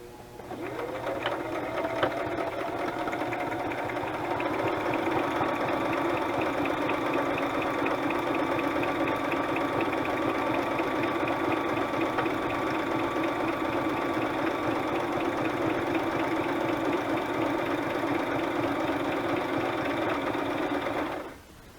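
A sewing machine stitches a zigzag on paper for a journal for about twenty seconds, a fast, even mechanical whirring and clatter that stops abruptly at the end.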